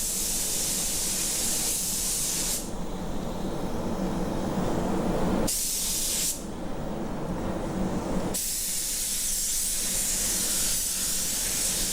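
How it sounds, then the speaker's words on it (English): A spray gun lays a light dust coat of car paint in a custom paint job, heard as a loud, steady broadband hiss in long passes broken by two short pauses. "Just give it a very nice, almost dust coat, and give it a good 10 or 15 minute flash off time."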